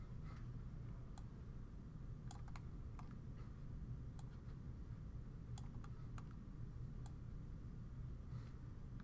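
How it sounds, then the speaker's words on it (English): Mouse clicks while drawing with a pen tool in 3D product-modeling software, a scatter of small sharp ticks spread across a steady low background hum, with no talking. "I'm just simply left clicking to place a point"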